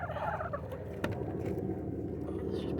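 Backyard chickens being fed make soft, busy clucking and fowl calls close by, a steady jumble of short notes with one sharp click partway through.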